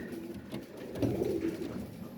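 Pigeons cooing close by, a soft low throaty coo rising in the middle, with faint rustling around it.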